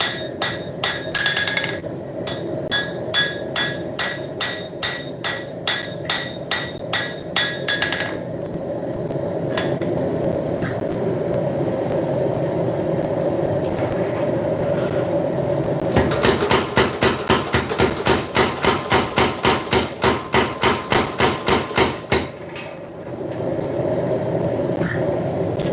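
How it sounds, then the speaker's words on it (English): A power hammer pounds a hot steel guard in rapid, rhythmic ringing blows, two long bursts of steady metallic strikes separated by a quieter stretch of machine hum. "Get the power hammer to even it out real quick"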